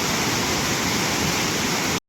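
Jamjir waterfall in Gujarat roars as a steady, dense wash of falling water, loud and close, with no voices, running unbroken before cutting off abruptly near the end.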